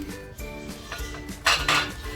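A metal lid clanks onto a cooking pan of masala with kokum, a few close, sharp clinks and scrapes, the loudest settling contact near the end.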